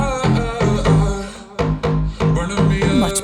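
Layered deep house synth bass, a Nexus low-end patch stacked with a Serum 2 bass for mid and high character, plays a short punchy rhythmic phrase of repeated notes, loud and alone.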